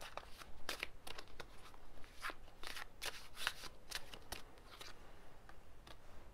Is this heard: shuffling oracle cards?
yes